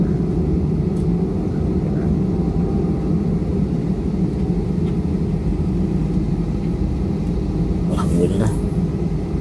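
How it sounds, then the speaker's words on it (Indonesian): Passenger airplane taxiing toward takeoff on a Makassar to Palu flight, a steady loud engine rumble and drone heard from inside the cabin, continuous and even. "pesawat bergerak ke arah selatan, persiapan untuk take off"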